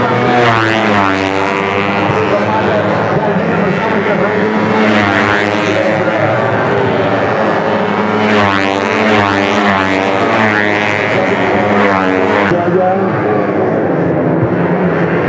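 Yamaha racing motorcycles at a Motorprix national championship race on an airbase circuit in Aceh, with loud, close engines revving and shifting through rising and falling whines, several bikes overlapping continuously with no break.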